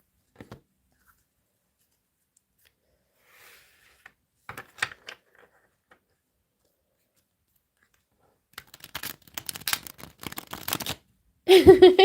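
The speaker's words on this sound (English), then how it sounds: "Okay, Gemini, let's have a right good shuffle" A deck of cards is shuffled several times, with quick riffling bursts separated by quiet pauses and the shuffles growing longer toward the end.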